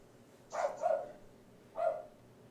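A female guard dog barks three times at a distance, a quick double bark followed by a single one after a pause, with quiet room tone between.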